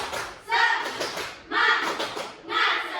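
Elementary school children in a science class do a rhythmic spirit clap, with three loud bursts of clapping and chanting voices about a second apart.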